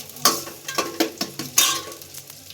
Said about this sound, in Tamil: அந்த எண்ணெயில் லைட்டாக இஞ்சி பூண்டு பேஸ்ட் வதங்கணும்